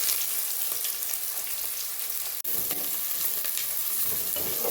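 Chopped onions sizzle steadily in hot oil at the start of a gongura chicken curry, a dense, even hiss close by. One brief dropout cuts the sound, and no voice is present.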